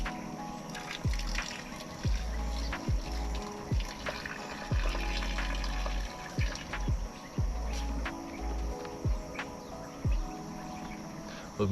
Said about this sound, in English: I'm just gonna quickly drain these spuds